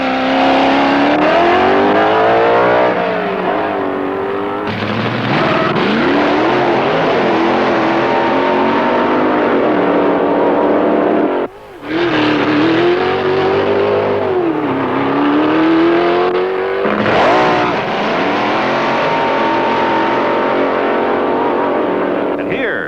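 Drag racing cars at the 1966 U.S. Fuel and Gas Championships in Bakersfield, California, roaring loudly in repeated runs. Engines rev up in rising, falling sweeps, then cut off abruptly before the next car launches.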